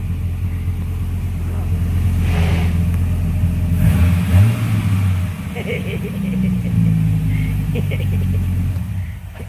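A Dodge Viper's engine revs up hard, a deep rumbling idle rising into a loud surge midway and then settling, with a voice briefly audible over the engine.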